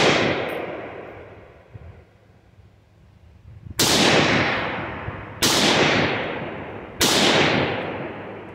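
Three sharp, loud rifle shots from a Ruger SFAR, evenly spaced about a second and a half apart, each cracking out and ringing down; a faint earlier shot fades before them.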